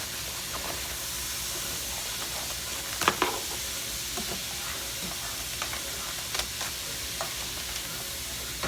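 Onions and bacon sizzle in a pan with a constant loud frying hiss, broken by a few scrapes and knocks as a utensil stirs them, close up with no voices.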